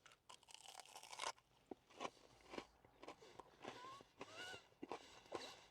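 Crispy fried fish cake from a chip shop bitten and chewed close to the mic, a string of quiet sharp crunches with uneven rhythm.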